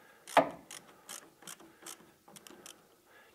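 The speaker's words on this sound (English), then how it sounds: "using the 13 mil socket, I'll just tighten up that nut" A ratchet with a 13 mm socket tightening a nut on a Hyundai generator's starter motor, a sharp first click followed by a series of quieter, evenly spaced ratcheting clicks, close and alone.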